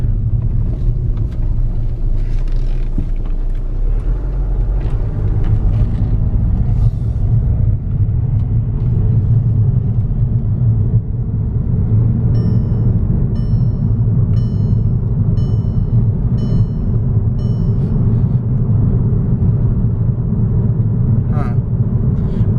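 Steady low engine rumble with road and wind noise from inside a moving Volkswagen TDI diesel car, the turbo working under load, with faint high whine tones partway through and no talk.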